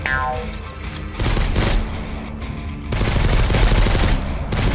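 Heavy, continuous automatic gunfire crashes out in Mist Survival, dense rapid bursts with booming impacts running the whole stretch at loud, close range.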